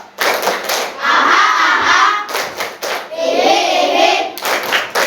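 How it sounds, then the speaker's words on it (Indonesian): A classroom of students pats their own shoulders during a maths lesson, giving a dense, rapid patter of many hands in bursts of a second or two, separated by brief pauses. "Tepuk-tepuk bahu."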